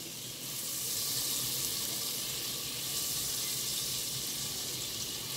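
Cooking oil heats in a pan with a steady, soft hiss and crackle, a faint continuous sizzle holding evenly throughout without any voices.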